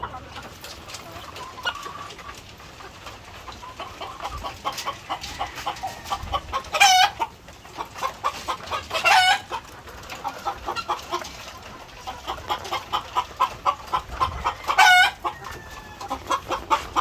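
A farm flock of about 65 laying hens cluck steadily in short repeated bursts, with a rooster crowing loudly a few times over the flock, close by.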